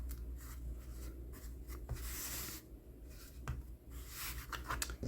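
Paper folded for an upcycled junk journal cover, steady rubbing and creasing with a few crisp rustles and soft taps, close and fairly quiet with no talking.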